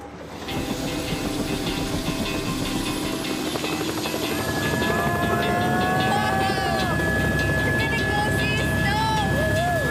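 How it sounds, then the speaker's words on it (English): A helicopter flying toward a glacier near Whistler, its steady rotor and engine drone filling the scene, loud and continuous, with a high whine and some voices underneath. "We were taken on a helicopter ride up to a glacier."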